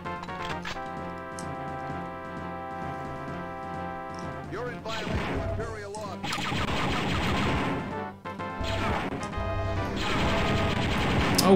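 Mortar fire in Star Wars: Dark Forces, where music plays first and then loud, crashing explosive blasts arrive in heavy bursts over the second half.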